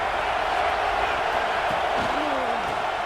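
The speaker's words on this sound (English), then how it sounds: "This crowd bringing the energy and noise early." A college football stadium crowd roars as a dense, constant wash of noise, loud and unbroken, with a voice briefly audible through it.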